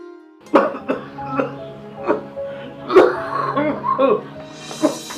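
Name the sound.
coughing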